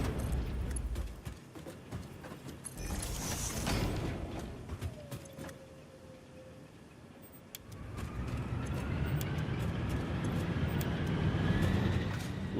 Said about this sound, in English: Love the whirring of the power plants, or generators.